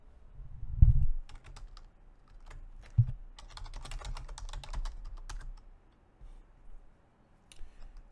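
Scattered keystrokes tap on a computer keyboard while typing commands in a terminal, quiet and close, coming in irregular bursts with a few heavier low thumps and short pauses.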